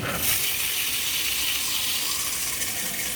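Cold water from a handheld shower head pours into a twin tub portable washer, a steady close hiss and gush that keeps on without a break.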